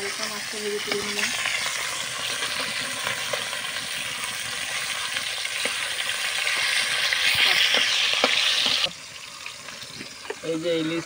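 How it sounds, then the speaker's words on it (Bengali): Hilsa fish pieces rubbed with salt and turmeric fry lightly in hot oil, a steady close sizzle and crackle running throughout with occasional stirring clinks, dropping quieter near the end. "এই যে ইলিশটা হালকা করে ভেজে নিলাম একটু"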